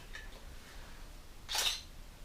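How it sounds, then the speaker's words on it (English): A Canon 550D DSLR fires its shutter once, a single sharp, fairly loud mechanical snap close by against a quiet background. "It also has a really distinct shutter sound. Just listen to this one."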